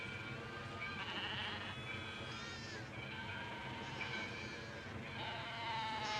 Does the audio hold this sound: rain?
no